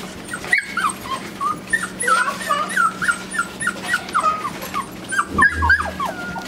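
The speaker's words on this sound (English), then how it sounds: "There's a Skittles puppy." A litter of puppies at an Easter play date whimpers and whines almost without pause. The high, wavering cries overlap at close range over a low background hum.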